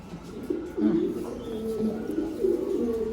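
Several racing pigeons coo nearby in low, throaty, rolling calls that overlap and repeat steadily over a quiet background.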